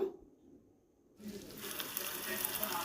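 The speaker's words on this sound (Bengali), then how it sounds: "দেখুন ভালো করে একটু নেড়ে চেড়ে কষিয়ে নেব" Spiced cauliflower and potato curry with a little sugar is stir-fried in a pan. A quiet pause gives way to a steady, faint sizzle and stirring noise that continues to the end.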